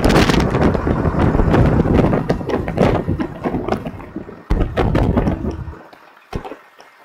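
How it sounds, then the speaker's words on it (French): Strong wind roars around a truck, a loud, dense, continuous buffeting that eases and breaks up toward the end. "il y a un vent à décorner les bœufs"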